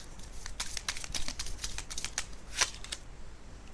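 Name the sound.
shuffling and drawing a card from a tarot deck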